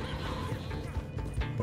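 A horse whinnies loudly and close in Red Dead Redemption 2, with clip-clop hoofbeats and a brief crash mixed into the short scene.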